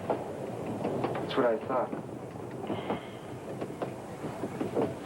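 A train rolls along the rails with a continuous rumble and faint clatter. Voices talk over the steady rail noise.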